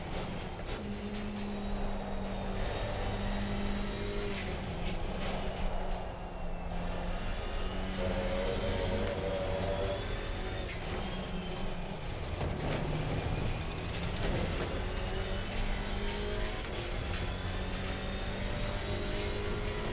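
Racing car engine droning steadily in a sim racing game, a GT4 car lapping the Nürburgring Nordschleife over bumpy track, with continuous tonal engine hum and rumble throughout, loud and close with no talk.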